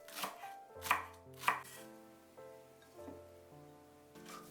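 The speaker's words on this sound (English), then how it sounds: "Mince 2 green onions." A knife mincing two green onions on a cutting board: a few sharp, close chops that ring out alone over a quiet room with soft background music.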